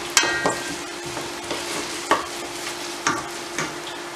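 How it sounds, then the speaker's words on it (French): A spoon scrapes and stirs crab stew with onions and ginger in a pot, giving a few distinct scraping strokes at an uneven pace over a faint background hum, with no talking. "On va mélanger tout ça."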